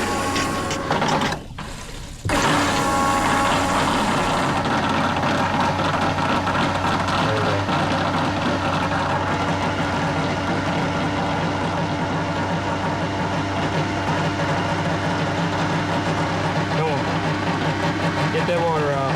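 A newly installed boat bilge pump, switched on by hand, runs with a steady mechanical whir and churning water, loud and continuous after a brief click and pause near the start.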